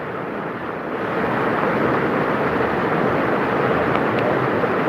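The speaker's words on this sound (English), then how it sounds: "The wind's picking up a little bit." Steady wind rushes and buffets outdoors beside a rafting course, growing slightly stronger after the first second and holding as a broad, continuous roar.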